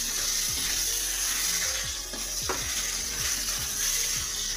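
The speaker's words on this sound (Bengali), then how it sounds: "মাছটা একটু ভাজা ভাজা করে নিচ্ছি" Shol fish (snakehead) pieces frying in a pan, a steady bright sizzle and hiss running throughout with faint scraping touches, no talk.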